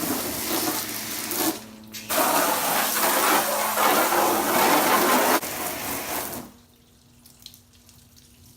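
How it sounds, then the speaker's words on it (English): Hot water sprays onto the badges of a Tesla Model 3 in a loud, hissing rush, cutting out briefly, resuming, then stopping and leaving near silence with a faint drip. "you can just spray it off with some hot water"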